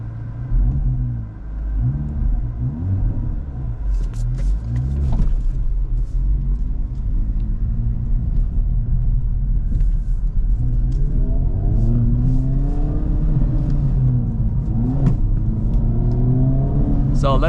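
A 2025 Acura Integra Type S with a six-speed manual pulls away from first gear, its engine rumbling and rising steadily in pitch as it accelerates, loud and close inside the cabin, with a voice speaking over it partway through.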